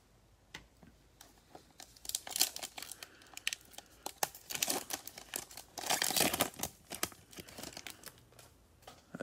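A plastic protective sleeve for a football trading card is pried open with effort, giving close, irregular crinkling and crackling bursts that rise and fall, with no talking.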